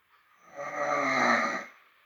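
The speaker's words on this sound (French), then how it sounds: "Donc là, vous allez entendre ronfler fort." A single drawn-out, loud, rasping snore from a person sleeping at night, swelling and then fading over about a second, close by with no talking.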